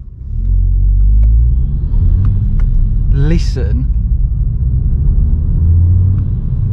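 A powerful Volkswagen Scirocco engine rumbles deep and loud as the car accelerates, heard from inside, while a person speaks briefly over the steady roar.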